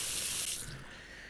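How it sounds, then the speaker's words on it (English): Water gushes from a kitchen tap in the VR game Cooking Simulator VR, a steady close hiss of running water that fades slightly as it continues, with no voices. "Turn on the tap."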